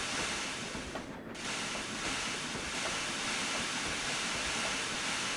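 Steam locomotive running in Trainz Railroad Simulator 2019 on a Cornish main line, a steady loud rushing roar with continuous chuffing and rumble throughout and no talk.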